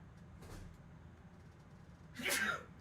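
One sharp human sneeze, close and fairly loud, preceded by a faint intake of breath against quiet background hiss.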